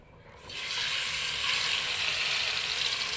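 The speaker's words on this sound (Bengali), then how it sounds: "তেলটা গরম হয়ে গিয়েছে এখন এর মধ্যে মশলাগুলো ছেড়ে দেব" Spices dropped into hot mustard oil over a clay stove start sizzling: a quiet pan jumps into a loud, steady, crackling fry that holds evenly, close up.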